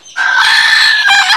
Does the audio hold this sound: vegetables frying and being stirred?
no